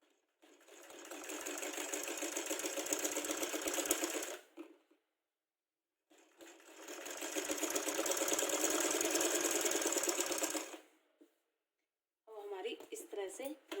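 A sewing machine stitches zip suit parts together. It whirs loud and close in two long bursts of several seconds each, with a brief pause between, then starts again. No one speaks.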